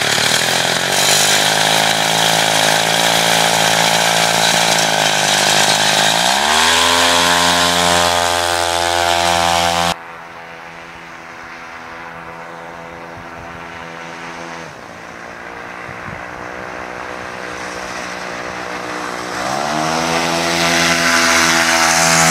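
An airplane-propeller-driven bike engine runs with a loud, buzzing drone. Its pitch drops and quietens midway, then climbs and swells again near the end, with no talking.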